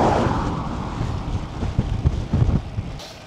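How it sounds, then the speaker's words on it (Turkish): Strong wind buffets the microphone in rough low gusts, with a brief rustle near the end and no voices. "rüzgar çıktı."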